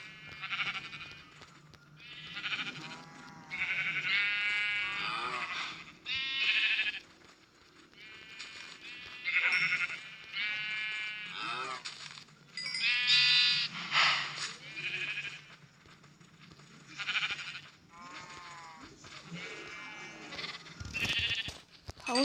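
Sheep and lambs bleating in a farming video game with sheep raising, a steady series of loud, close bleats overlapping one another throughout with brief pauses between calls.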